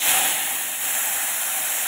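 Fish curry poured into a hot pan with a steady loud hiss and sizzle filling the moment, close up.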